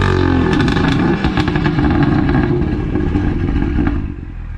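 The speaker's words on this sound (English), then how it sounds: "Listen to the exhaust note." A sports car, either a 2018 BMW M2 or an Audi RS3, roars loudly up close with a deep rumbling exhaust note and a strong engine drone that stays steady, then drops off slightly at the end.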